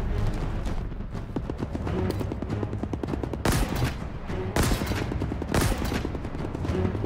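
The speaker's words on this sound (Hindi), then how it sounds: "उसकी गोलियां बराबर से आ रही है मेरे पे।" Rapid gunfire in the first-person shooter Halo Infinite, dense bursts of automatic shots rattling steadily through the whole stretch, with a few louder impacts standing out, close and loud with no talk.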